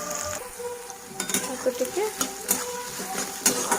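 Onions frying in a pan over a medium flame with cumin and mustard seeds, a close hiss under repeated scraping and clinking of a stirring spoon, with a voice talking over it.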